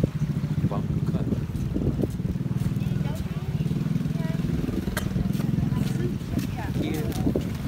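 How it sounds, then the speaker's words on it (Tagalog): A motorized bangka, a small outrigger boat, runs on a lagoon in Caloocan with oyster farms nearby, its steady engine drone close and continuous under wind and intermittent talking. "Bangka."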